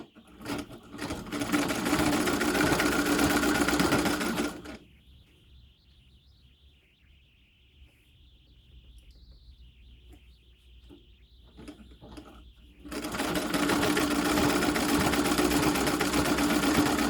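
A treadle sewing machine stitches in long, loud, steady runs at the start and end, its rapid mechanical chatter filling the room, with a quieter pause in the middle where a faint whine and small clicks remain.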